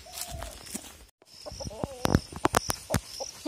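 Hens cluck in short bursts inside a henhouse around a brief pause, with shuffling movement and a person talking now and then nearby.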